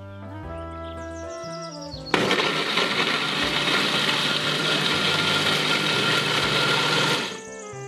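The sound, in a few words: blender grinding spices with a little water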